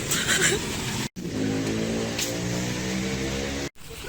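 Jammed street traffic on Jalan Garuda, a steady dense rumble of car engines with some revving and a passing horn-like tone, close and continuous, briefly cut twice.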